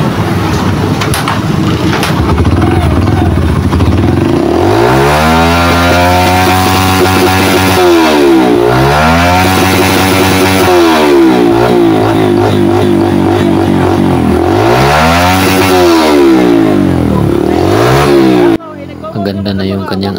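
A Yamaha YBR125 motorcycle engine with a replaced CDI, running loud and close, revved repeatedly in rising and falling sweeps over a steady idle, with a sudden drop near the end.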